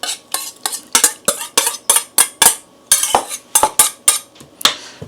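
Almond flour pancake batter beaten in a bowl with a utensil, producing a rapid series of sharp clinks and scrapes in a steady rhythm, loud and close, with brief pauses between strokes.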